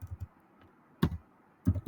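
Keys clatter on a computer keyboard in two short bursts of typing, close and fairly quiet, separated by a brief pause with no talking.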